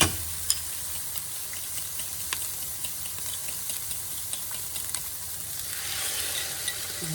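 Eggs frying in a pan for a steak burrito, a steady close sizzle and crackle with scattered pops running the whole time, growing slightly louder and hissier toward the end.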